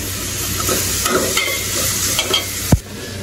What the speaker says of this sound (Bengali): পেঁয়াজ রসুন বসিয়ে দিলাম ভাজতে।